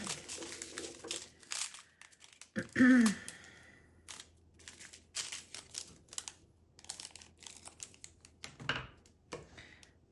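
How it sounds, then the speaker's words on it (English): Scissors snip open a plastic bag of diamond art drills, a sharp crinkling cut standing out briefly amid scattered rustling and handling noises close by. "let me just cut the bag"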